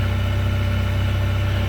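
A Rover 820 Si idles steadily up close, a low, even engine rumble with a regular pulsing beat and no talking over it.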